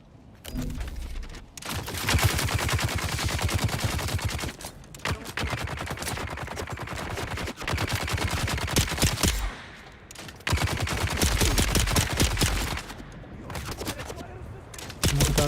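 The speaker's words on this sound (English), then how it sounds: "Another guy shooting me." Rapid automatic gunfire from another player in Dune Awakening rattles in long dense bursts broken by brief pauses, loud and close across the whole stretch.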